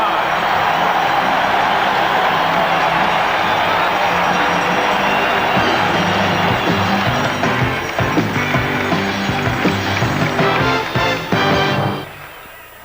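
A packed basketball arena crowd roars continuously at the close of a 1986 NBA playoff game between the Celtics and Hawks, loud and dense throughout, before the noise cuts away abruptly near the end.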